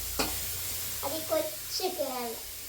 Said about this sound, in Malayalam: അങ്ങനെ സവോള ചെറുതായിട്ട് വഴറ്റിക്കൊണ്ടിരിക്കുകയാണ്